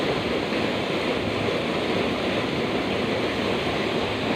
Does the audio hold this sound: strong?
yes